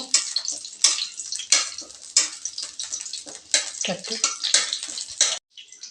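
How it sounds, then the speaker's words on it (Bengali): Curry leaves frying in hot oil in a wok, heard as bursts of sizzling and stirring swishes in an uneven rhythm, close and fairly loud, ending in a brief silence. "তেলের মধ্যে আমি কড়ি পাতা দিয়ে দিচ্ছি কড়ি পাতাগুলো একটু নেড়ে চেড়ে ভাজা ভাজা করে নেব"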